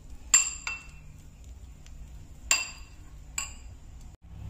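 A spoon mixes garlic butter with grated garlic and chopped coriander in a bowl, making a few sharp, bright clinks against the bowl with quiet scraping between them.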